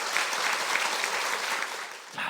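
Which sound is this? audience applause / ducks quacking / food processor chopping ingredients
audience applause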